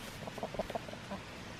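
Chickens on a deep-litter bedding floor cluck softly and repeatedly in short, quiet bursts while scratching through forkfuls of spread bedding, close by with no talking.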